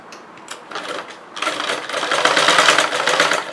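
A sewing machine runs a continuous mechanical whir while stitching the joined seam of a chudidar, starting with light taps and building into a steady, close rattle after a brief pause.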